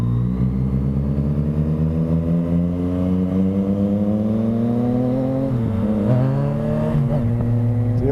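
Yamaha FZ-09 motorcycle fitted with a Yoshimura exhaust, accelerating on the road with a steady rising engine drone and climbing harmonics, a brief dip near the shift before pulling up again, loud and close throughout.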